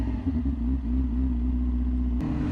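A 600cc motorcycle's exhaust gives a steady, throaty drone at near-constant revs, close and moderately loud, cutting off abruptly near the end; no talking.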